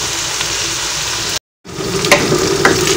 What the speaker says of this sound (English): So I'm frying the spring onions.